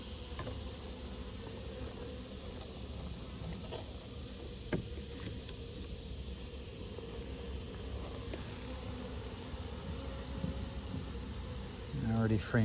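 Bees from a hive caught in brickwork give off a faint, steady buzz that drones quietly throughout, with a few soft knocks and a louder rustle near the end.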